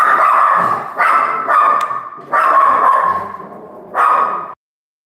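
A dog barks loudly and close by in four rough bursts, each lasting about half a second to a second, with short gaps of silence between them.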